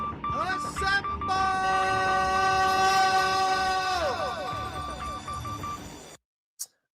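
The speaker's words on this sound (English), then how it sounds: "Let's go ahead and hit that producer jingle real quick." A producer jingle sound effect plays on a talk show, a loud horn-like train chord with whistle tones sounding for about six seconds, then cutting off abruptly, followed by one short blip.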